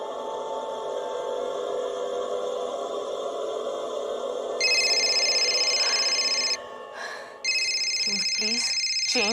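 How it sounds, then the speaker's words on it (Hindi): A mobile phone ringtone rings loudly in bright, sustained electronic tones, stopping briefly and starting again over a low background drone, with voices near the end. "change your stupid ringtone?"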